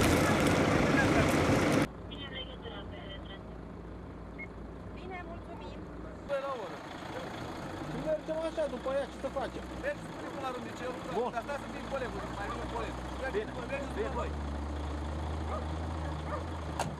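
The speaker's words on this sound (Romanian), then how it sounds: "A venit utilajul de dezăpezire" A snow-clearing machine's engine rumbles low and steady on a snowy road in Buzău county during a blizzard, mixed with gusting wind, while people talk over it.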